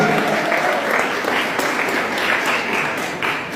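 Loud, sustained applause fills a college hall at a Jain College student union inauguration in Bikaner as the mayor is welcomed, with many hands clapping at a constant, close level throughout.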